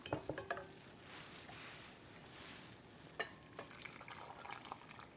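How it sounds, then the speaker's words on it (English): Brine pours into a glass jar of beets, a quiet liquid trickle and wash, with a few light clinks of glass at the start and again near the end. "So I'm going to fill my jar up now with my brine."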